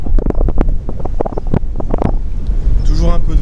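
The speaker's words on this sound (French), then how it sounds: "Toujours un peu de vent." Wind buffeting the microphone at a harbour, gusty low rumbles mixed with short bursts of talk and handling noise, loud and close, with a brief whistling tone near the end.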